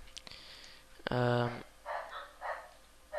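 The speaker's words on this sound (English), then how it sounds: "My dogs are barking." A single sharp dog bark rings out indoors, followed by softer yips and whimpers, with faint talking nearby.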